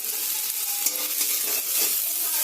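Chopped onions and garlic fry in hot oil for an okra recipe, giving a steady, close sizzle with scraping stir noises throughout and no voices.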